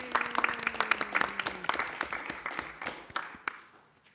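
Applause at a city council meeting in Nixa: a small group claps in scattered, sharp, individually audible strokes that thin out and fade over a few seconds.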